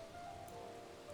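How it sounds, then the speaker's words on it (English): Rain falls in the Final Fantasy XIV: Dawntrail video game, a soft, steady patter of drops on surfaces, faint and continuous throughout. "It really doesn't stop raining, does it?"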